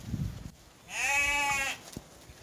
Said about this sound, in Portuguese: São as cabras